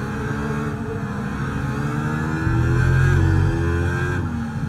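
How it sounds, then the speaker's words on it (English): A high-revving Formula 1 racing engine in the video game F1 24 drones steadily, its pitch shifting and swelling louder midway before easing back, with no voices. "now this is the best sounding engine in my opinion"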